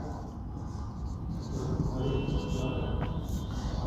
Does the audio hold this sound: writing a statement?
yes